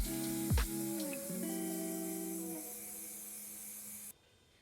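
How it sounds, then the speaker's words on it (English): A TEMPTU airbrush sprays primer onto a face with a steady, close hiss over a low compressor hum. The spray runs continuously, then cuts off abruptly shortly before the end. "You always want this about 4 fingers away from the face, and you always want your airbrush to keep moving."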